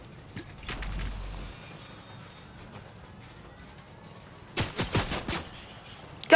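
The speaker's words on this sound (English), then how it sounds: "I'm being shot at." Gunfire in the game Fortnite: a cluster of rapid, sharp shots breaks out after a quieter stretch of muffled game noise, with a low thump early on, fairly near and without talk.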